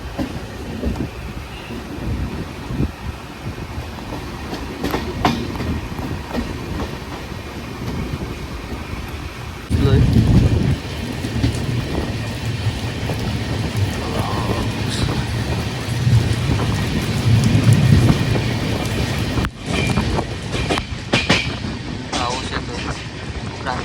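A train rolls through heavy monsoon rain in the Konkan region, its steady rumbling and rattling of the carriages continuing throughout with rising surges and a scattering of sharper clicks.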